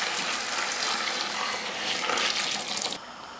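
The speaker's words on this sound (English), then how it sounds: "I am covering this meat with water." Water poured from a tap into a cooking pot over lamb shanks for nihari, a loud steady gushing fill that cuts off abruptly near the end.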